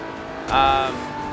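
A race car engine in a racing video game gives a brief, loud tonal whine that swells and fades within about half a second over a steady background hum.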